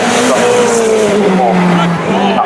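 Lamborghini Super Truck racing up the hill at the 2021 Festival of Speed, its engine roaring loud and continuous with rising and falling pitch, tyre noise mixed in, and a commentator talking over it throughout.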